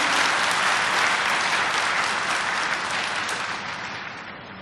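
Steady, full audience applause thanks the panelists at a panel discussion, sustained and even throughout before easing slightly at the end, with no talk over it.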